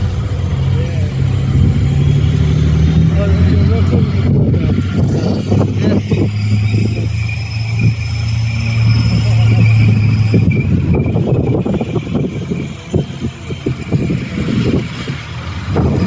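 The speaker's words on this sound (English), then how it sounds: "so that's Challenger 1 T-72. I missed what that one was. They're quite loud." Cold War tanks, including a Challenger 1 and a T-72, rumble past at a tank display, a loud continuous low engine roar with rising tones and track clatter, while people nearby talk over it.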